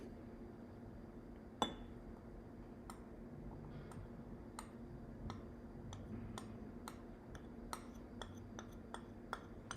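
A spoon stirs cornstarch into a homemade salve mixture, giving faint, regular clinks and ticks against a glass container, with one sharper tap early on in an otherwise quiet room.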